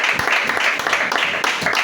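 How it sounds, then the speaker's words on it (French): Children clap along at a Sunday school church service, producing a short burst of rhythmic, fairly loud claps with some voices mixed in. "Applaudissez."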